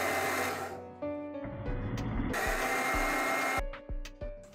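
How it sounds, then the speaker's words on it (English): An electric spice grinder refines bulgur wheat for kibbeh, running as a loud, steady motorized whir that shifts pitch in stages and cuts off with short bursts near the end. "You can refine the bulgur more in the spice grinder."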